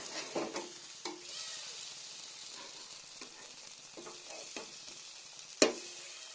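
Monsoon fruit pieces being stirred and roasted in a pan, likely jackfruit: faint scraping strokes of a spatula at an irregular rhythm over a soft sizzle, with one sharper metallic clank near the end.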